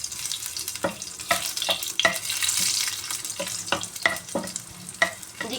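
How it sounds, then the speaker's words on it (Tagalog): Garlic frying in hot cooking oil in a pan, a close steady sizzle with repeated sharp scrapes and taps from stirring at an irregular rhythm. "Pag mainit na din ang ating mantika, ilagay na natin ang ating bawang."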